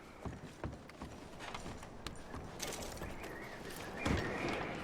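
Horses' hooves clopping in a video game, a steady run of near, moderately loud hoofbeats with faint mechanical clatter and no talk.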